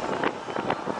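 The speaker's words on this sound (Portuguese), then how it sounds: "olha o vento, mano, olha" Loud, gusting wind from a rainstorm roaring and buffeting the microphone in rough surges, filling the whole moment without any voices.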